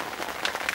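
Rain falling steadily at a fishing lake on a wet day, a close, dense patter of drops on surfaces filling the short moment without any talking.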